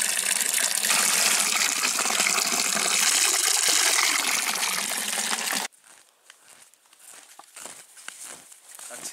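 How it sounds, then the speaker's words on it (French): Fresh water pours steadily from a mountain fountain, a loud continuous gush that cuts off abruptly partway through, leaving quieter outdoor ambience with faint rustling. "nous voilà devant une magnifique fontaine avec de l'eau bien fraîche, donc, dans laquelle on peut venir directement boire"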